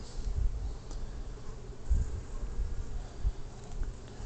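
Bees at a top bar hive give a low, steady buzzing drone with a few brief louder swells, moderately close and without voices.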